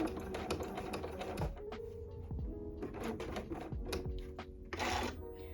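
A sewing machine stitching fabric for an elastic waist skirt, running in short bursts with brief pauses, close and moderately quiet.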